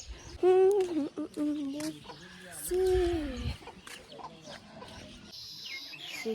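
Hen clucking in short bursts close by, alternating with other noises and a voice, with gaps between the calls.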